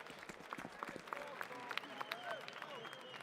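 A crowd claps and cheers at a PGL Cluj-Napoca Counter-Strike playoff match between Vitality and Aurora, dense scattered applause heard at moderate distance under commentary.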